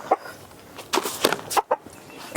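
A few chickens cluck in short, soft bursts while being fed black soldier fly larvae, with clucks scattered irregularly over quiet background.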